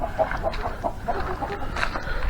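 Young chickens outdoors on a calm, windless day chirp and cluck in a quick run of small, fairly close calls, with soft background noise behind them.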